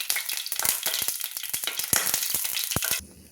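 Hot oil sizzles and crackles loudly in a pan while chana dal is cooked, with dense hissing and sharp pops over a few seconds before the sound cuts off.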